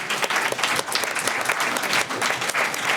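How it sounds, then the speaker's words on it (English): A crowd applauds steadily for panelists at the end of a panel discussion, with dense clapping sustained throughout at an even, fairly loud level. "have a final round of applause for our panelists, Maya Durham, Kingsley Botchway, Nikole Hann"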